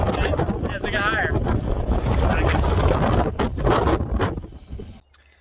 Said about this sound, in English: I think wind decided to kick up a little bit as I got higher.